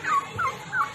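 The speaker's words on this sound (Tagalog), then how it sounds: "Pabo yan. Pabo, siya yung nangahapag." Three quick gobbling bursts from a turkey, evenly spaced and fairly close, with faint background noise between calls.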